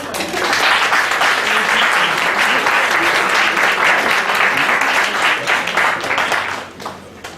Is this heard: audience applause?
yes